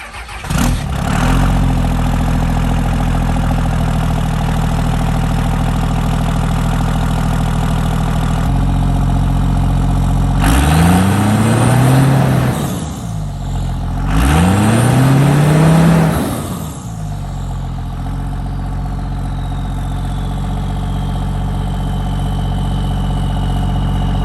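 A Cummins diesel truck engine cranks twice in a cold start, the starter whirring briefly before it fires and settles into a steady, close, loud idle.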